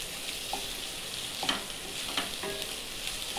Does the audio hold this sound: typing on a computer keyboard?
no